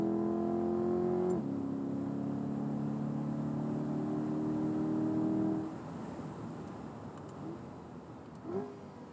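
A 2023 Chevrolet Corvette C8 Z51 with an eight-speed automatic accelerates on a track, its engine note climbing through a quick upshift and then dropping away to a faint rumble.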